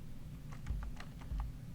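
Several quick keystrokes tapped on a computer keyboard while entering a sudo command, close and clear over a low steady hum.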